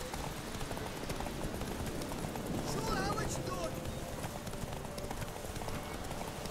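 Horse galloping in The Witcher 3 during a horse race, a fast rhythmic clip-clop of hooves running steadily under game sound, with a brief snort or whinny midway.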